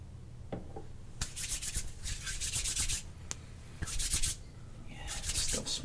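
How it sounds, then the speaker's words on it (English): Beard oil is rubbed into a beard up close, giving soft bursts of bristly scratching and rasping strokes in irregular rhythm, some short and some lasting about a second, with brief pauses and no talking. "now we're gonna get a little beard oil on you so that we can trim that beard."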